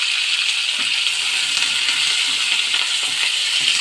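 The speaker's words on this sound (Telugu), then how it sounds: "ఇప్పుడు 1 ఉల్లిపాయ కట్ చేసుకున్నవి, 2 పచ్చిమిరపకాయలు, కరివేపాకు ఇవి కూడా వేసుకొని వేయించుకోవాలి." Sliced onion, green chillies and curry leaves fry in hot oil in a pan, a steady close hiss of sizzling with faint crackles and spatters throughout, no voices.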